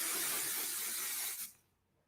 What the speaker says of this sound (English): I'm actually going to spray underneath.